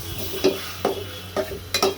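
Pangas fish heads sauté in a pan: four distinct scraping strokes of a spatula, close and clear, over a faint, steady sizzle, with no voice.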